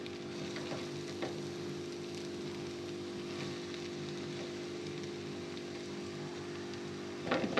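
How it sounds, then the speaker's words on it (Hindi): Potato and cauliflower curry fries in a pan with a steady, fairly quiet sizzle and crackle like light rain, with a couple of brief stirring scrapes near the start and a clatter at the end, with no talking. "हम जो हरी गोभी इसमें शामिल हो गई है, इसको अच्छे से मिक्स कर लेंगे।"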